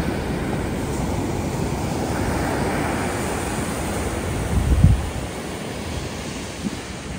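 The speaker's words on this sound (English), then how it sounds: "the beach here is just incredible" Ocean waves wash onto the beach at a Royal Thai Navy base with a turtle sanctuary, a steady, windy surf roar that swells briefly near the end before easing, with no voices.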